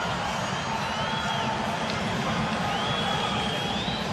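Arena crowd at the 1993 NBA slam dunk contest, a dense sustained roar of cheering and whooping, loud and unbroken, with scattered shouts rising above it.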